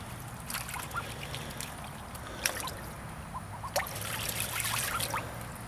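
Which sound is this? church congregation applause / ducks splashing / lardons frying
ducks splashing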